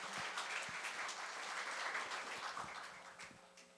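An audience at a Korea University labor graduate school evening gathering gives a sustained round of applause, heard fairly quietly and at a distance, tapering off slightly toward the end.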